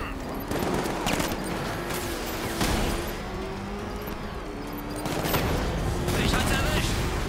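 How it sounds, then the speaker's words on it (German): Rapid gunfire bursts from the Batman: Arkham Knight game crackle through dense in-game noise, with a voice faintly present. "Ich werde beschossen!"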